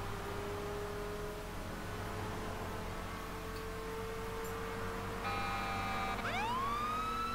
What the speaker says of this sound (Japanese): 救急車が走ってますね。